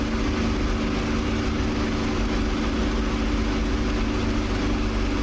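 A warbird propeller plane in the DCS flight sim climbs out on takeoff, its piston engine droning in a loud, steady, unbroken roar with a low throbbing hum.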